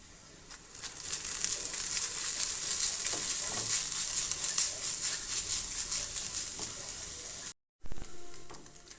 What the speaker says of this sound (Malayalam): നല്ല ഗോൾഡൻ ബ്രൗൺ നിറമാകുന്നത് വരെ നമുക്കൊന്ന് ഈ തേങ്ങ ഒന്ന് വറുത്തെടുക്കാം